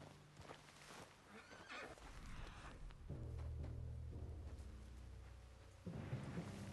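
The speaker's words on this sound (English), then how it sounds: "What's wrong with this horse?" A horse whinnies loudly alongside clopping hooves, with low rumbling and rain-like noise in the background of a Red Dead Redemption 2 game scene.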